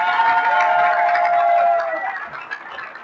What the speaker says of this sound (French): je vais demander d'applaudir l'entrée sur cette scène de Madame le bâtonnier d'Angers, Claudine Th